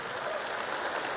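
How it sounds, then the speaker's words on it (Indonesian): Crowd applause at an Indonesian political rally, a dense, steady wash of clapping heard briefly at moderate distance. "Kita berikan tepuk tangan kepada beliau."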